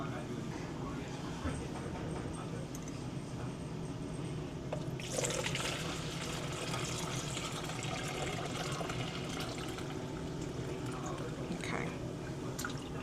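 Homemade ginger beer pours out of a container in a steady liquid stream, with a louder splashing surge partway through and background noise around it.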